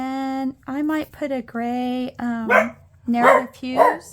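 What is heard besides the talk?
dog barking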